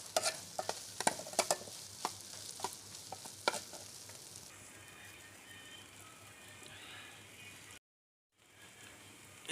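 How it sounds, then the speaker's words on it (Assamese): Onion, green chili and ginger garlic paste sizzle in a pan while being stirred, with quick spatula clacks early, then a steadier, softer frying hiss before a short silent gap. "পুৰা ব্ৰাউন হোৱালৈকে ভাজি থাকিম একদম,"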